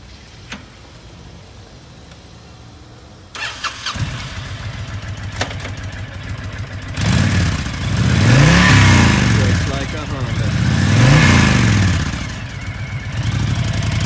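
A 2004 Honda VTX1300C V-twin cruiser motorcycle starts up close by after a quiet moment, settles into a lumpy idle, then is revved twice in loud swelling bursts before dropping back to idle.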